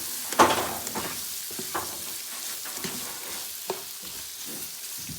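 Jalapeños frying in a pan, a steady soft sizzle with occasional louder pops and stirring scrapes, close by and moderately quiet.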